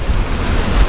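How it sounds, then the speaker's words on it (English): Thirty-knot winter wind roars across the North Sea around a small sailing boat, with heavy waves surging and washing close by in a dense, loud, continuous rush. "We have 30 knots of wind now"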